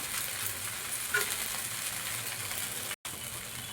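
Pasta sizzles and fries steadily in a hot pan with chicken and egg, a continuous crackling hiss with a brief clink near the middle and a momentary dropout near the end; no talking.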